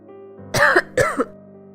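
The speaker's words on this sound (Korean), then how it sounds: "병풍 뒤편에서 마른 기침 소리가 들려왔다" Two dry, throaty coughs in quick succession, close and distinct, over a low steady background hum.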